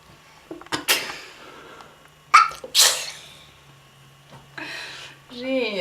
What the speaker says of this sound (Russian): Ты чихаешь?